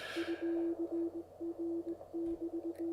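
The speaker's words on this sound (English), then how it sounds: "So this is Morse code, of course, using CW." Morse code CW sidetone from an amateur radio during an early-morning session, a steady stream of keyed dits and dahs in irregular bursts, clear and fairly quiet.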